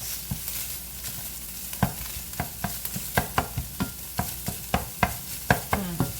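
Onions sautéing in a pot for a one-pot hamburger helper lasagna, a steady low sizzle broken by a string of sharp spoon scrapes and clacks against the pot, close and fairly quiet.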